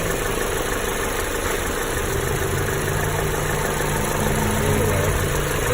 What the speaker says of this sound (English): There's our coolant motor down there.